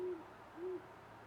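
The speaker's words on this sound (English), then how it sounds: "I just wanted you guys to hear the owls" Owls hoot outside, two separate low calls about half a second apart, clear but moderately distant, with no talking over them.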